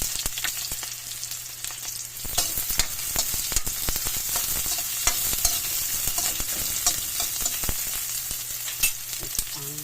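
Onion and ginger sauté in a hot pan, a steady bright sizzle running throughout while a spoon scrapes and stirs in repeated short strokes, with no talking.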